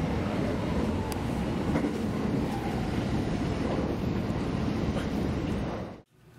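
Inside a JR Hanwa Line section rapid train bound for Wakayama, a steady loud rumble and rush of wheels and air fills the car continuously, dropping off abruptly at the end.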